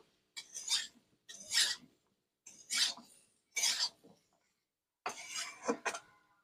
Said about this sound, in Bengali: সবকিছু খুব ভালো করে নাড়াচাড়া করে নেবো